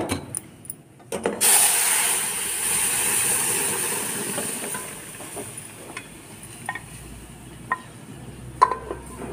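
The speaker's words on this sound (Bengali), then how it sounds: "এই রসুন লঙ্কাটা লাল হয়ে গেছে, লাল হলে এবার ডালটা ঢেলে দিলাম।" Lentils poured into a hot tempering of reddened garlic and chilli hiss into a sudden loud sizzle that slowly settles into a steady frying crackle, punctuated by a few sharp clinks of a utensil against the pan.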